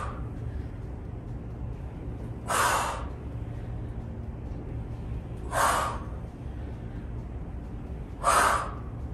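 Heavy breaths during a pull-up workout come as three loud, evenly spaced exhalations a few seconds apart, each a short forceful rush of air over a low steady background hum.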